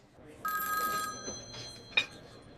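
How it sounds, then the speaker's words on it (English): A telephone rings in a restaurant dining room late in the evening, a single bright electronic ring burst near the start, then a short quieter tone over low room noise. "The phone rang at exactly 9:47."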